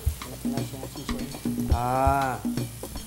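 Young coconut and onions being stirred in a hot pan, a spatula scraping and clattering in an irregular rhythm over a steady close sizzle.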